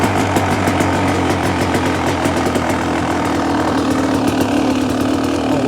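A 2024 Beta motorcycle engine runs steadily and loudly up close while riding and coming to a stop, with a continuous rattling mid-pitched drone and no speech.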